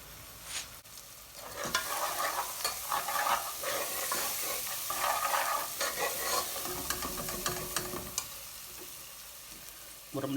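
Spices and onion fry hard in a pan over high heat for handi chicken tikka aloo bhuna, a steady close sizzle broken by repeated scraping stirs of the spoon against the pan, continuing throughout with no talking.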